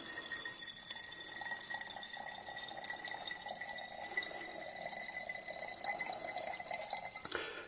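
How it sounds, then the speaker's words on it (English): Water poured into the small 175 ml tank of a DB-Tech multi-purpose pressurized steam cleaner, a steady trickling and splashing fill that runs for several seconds at moderate level with no talking. "obviously, you just pour the water in."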